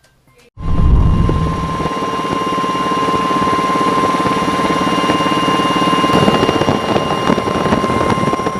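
A helicopter flies over the mountains of Tinglayan, Kalinga. The loud, steady rotor and turbine roar begins abruptly and continues without a break, with wind buffeting the microphone.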